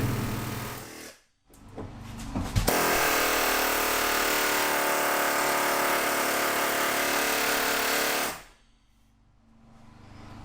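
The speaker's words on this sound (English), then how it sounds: "using an air hammer to kind of just chisel it out from behind" A loud pneumatic air hammer chiseling out rivet heads from a school bus ceiling rattles continuously for several seconds, starting after a couple of brief bursts and then stopping abruptly.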